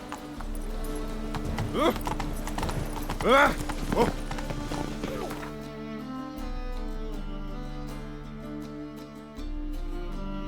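Horse hooves clip-clopping in The Witcher 3 video game, a steady rhythmic trot over a constant low hum of in-game ambience, with a voice briefly speaking early on.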